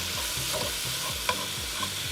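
Beef and finely diced yellow onion stirred in a frying pan, a continuous close sizzle with rhythmic scraping strokes of the utensil and a couple of sharp clinks against the pan.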